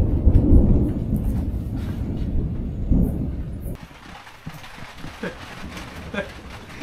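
Thunder rumbling during a storm over a deep swamp, a loud low roll that builds and fades in the first few seconds before giving way to quieter rain-like patter and scattered sharp sounds.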